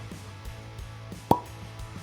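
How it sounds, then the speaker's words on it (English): A cork pops from a bottle of cask-strength bourbon: one sharp, clear pop rising out of a quiet room with a low steady hum. "Cork pop."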